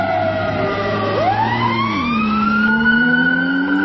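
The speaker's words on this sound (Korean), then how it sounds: "사이렌과 윙윙거리는 엔진 소리가 다가오고 지나갑니다." A synthetic siren wails with rising and falling sweeps over a whirring engine, growing loud and close as it approaches and then drifting past, with no talking.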